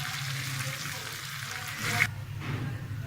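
Cumin seeds and green chilies sizzling in hot oil for a tadka for dal mash, a steady broadband crackle close by that swells briefly near the end, with a low hum underneath.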